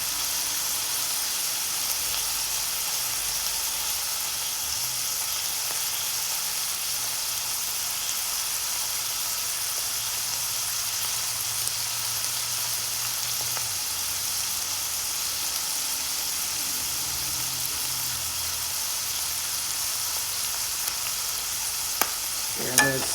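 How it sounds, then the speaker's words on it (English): Meat for a ramen noodle casserole fries in a pan with a steady, close, hissing sizzle that lasts throughout, ending with a faint clink. "Now, by the sound of the meat, I can tell it's almost done."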